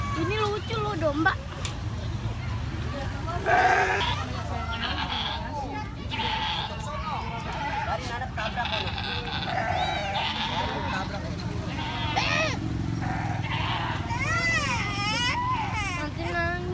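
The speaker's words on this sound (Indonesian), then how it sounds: "Ini lucu loh, domba." Sheep bleat repeatedly, loud and close on a farm, their wavering cries rising over frequent talk and a voice.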